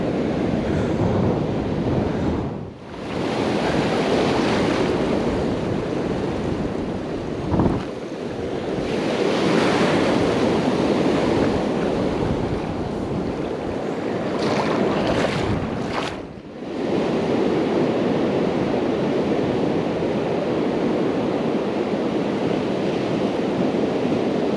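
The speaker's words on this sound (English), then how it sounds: "come on out here to the beach for a minute" Ocean surf on a beach with strong gusting wind buffeting the microphone, a loud continuous roar of waves rising and falling over about twenty-five seconds.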